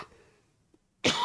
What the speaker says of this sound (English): that COVID cough is the worst